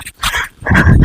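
A dog growling close and loud in two rough bursts, the second longer and deeper.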